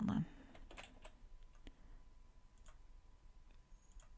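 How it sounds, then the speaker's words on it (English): Soft keyboard typing during a math lecture, a run of quiet, scattered keystroke clicks close to the microphone over faint room hiss, with no talking. "Let me type up what we did."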